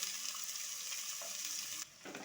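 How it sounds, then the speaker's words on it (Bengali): Chopped onion fries in a pan with cumin, mustard seed and asafoetida, giving a soft, close, steady sizzle that dips near the end, then picks up briefly. "এখানে দিয়ে দেবো এবারে কেটে রাখা পেঁয়াজ কুচি"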